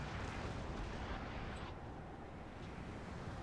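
Artillery guns firing barrages in the game Napoleon Total War, a dense continuous rumble of distant cannon fire blending into a roaring wash with no distinct single shots, faint and steady throughout.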